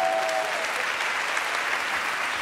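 Audience at a comedy show applauding for a man named Martin, a steady, dense round of clapping that stays loud throughout.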